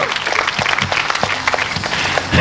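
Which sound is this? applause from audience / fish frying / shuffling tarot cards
applause from audience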